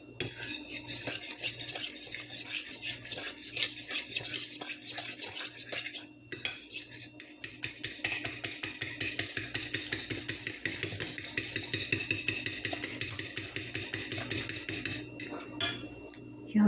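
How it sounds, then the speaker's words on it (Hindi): Sugar stirred in a bowl for cream cheese stuffed French toast, a busy, continuous metallic clatter of a spoon scraping and tapping the bowl, close and brisk, with a brief pause early on before the rapid stirring resumes. "चीनी को अच्छी तरह मिक्स कर लें।"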